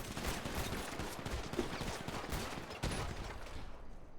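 Gunfire in a GTA roleplay game: a steady, dense stream of shots and impacts running for about four seconds with a sharp burst near the end, loud and continuous with no clear gaps.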